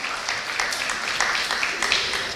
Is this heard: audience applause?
yes